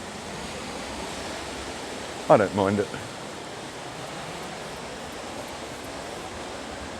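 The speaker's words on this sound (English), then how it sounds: "the river probably sounds really loud and annoying" Waitawheta River in New Zealand rushing loudly, a steady broad roar of water throughout, with someone speaking briefly over it.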